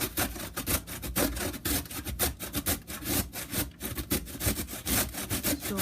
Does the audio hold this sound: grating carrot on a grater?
yes